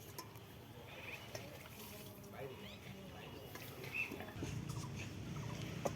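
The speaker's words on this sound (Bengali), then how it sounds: "বন্ধুরা, আমি আলু ধুয়ে নিচ্ছি।" Potatoes being washed by hand in water, with soft splashing and sloshing at close range under steady background noise and faint bird calls.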